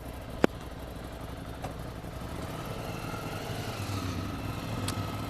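A 2016 Ducati Scrambler Icon 800 with an 800cc L-twin engine runs steadily at a low, even rumble, fairly faint and continuous, with a sharp tick early on and no talk.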